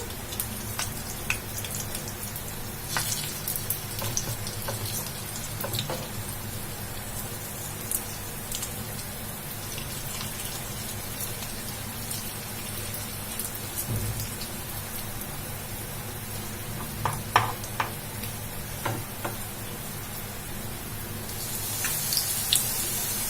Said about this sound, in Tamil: ஆயில் வந்து சூடாயிடுச்சு. இப்ப நம்ம ரெடி பண்ணி வச்சிருந்த மிக்ஸை வந்து இதுல கொஞ்சமா வச்சுக்கலாம்.